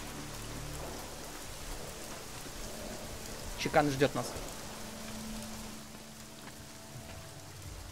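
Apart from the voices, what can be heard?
heavy rain in video game Deus Ex: Mankind Divided, Prague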